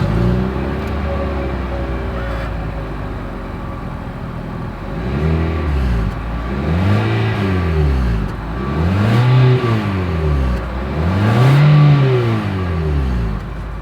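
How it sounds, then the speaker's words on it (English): A 2025 Mitsubishi Outlander SUV engine revs up repeatedly through its exhaust, three or four rising and falling roars over a steady idle, loud and close. "here is that exhaust clip."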